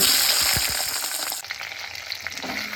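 Brinjal pieces sizzling and frying in a hot pan, a loud hiss at first that drops as the pan settles, followed by softer crackling and bubbling with occasional stirring clinks.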